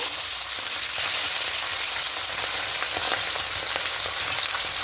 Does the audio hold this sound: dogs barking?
no